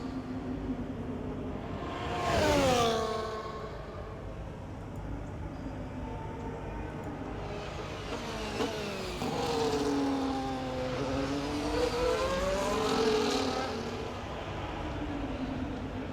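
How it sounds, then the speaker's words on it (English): Formula 1 race cars, including a Mercedes, scream down a long straight at Circuit of The Americas in the EA Sports F1 video game. Loud, continuous engine whine rises and falls in pitch as the cars pass close by. "the Mercedes of George Russell was just coming up into the straight"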